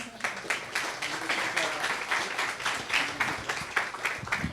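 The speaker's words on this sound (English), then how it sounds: "Do you want to give her a round of applause?" An audience at a tech meetup on AR and VR gaming gives a round of applause, a steady patter of many hands at moderate distance, continuous for a few seconds.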